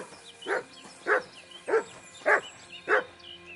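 A dog barks five times at a steady pace, each short, moderately loud bark separated by about half a second of quiet.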